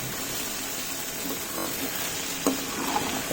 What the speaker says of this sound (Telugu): బెండకాయలు అయితే ఎంత సాఫ్ట్గా ఫ్రై అవుతున్నాయి